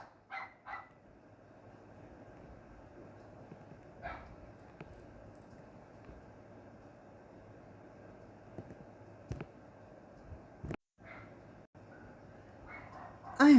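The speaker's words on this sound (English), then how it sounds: "They're still barking." Dogs bark in short, scattered bursts at a distance around a house in the neighborhood, the yaps sparse and fairly faint over a quiet background, with a louder bark near the end.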